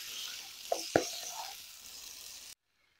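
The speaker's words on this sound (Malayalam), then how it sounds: "ഇനിയും 1/2 ടീസ്പൂൺ ഉപ്പിട്ട് ഇതൊന്ന് ഇളക്കി മിക്സ് ചെയ്യാം" Kappa biriyani mixture, tapioca in an Idukki-style biriyani, stirred in a pan after salt is added, with a gentle sizzle, a couple of sharp utensil knocks near the start, then sudden silence.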